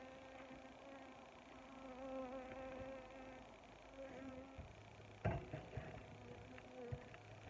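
Honeybees drone in a continuous, close buzz at an outdoor bee yard beside hives of new splits. A few sharp knocks and handling clatters break in near the end.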